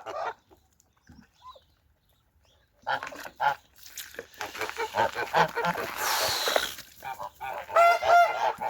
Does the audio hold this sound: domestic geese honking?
yes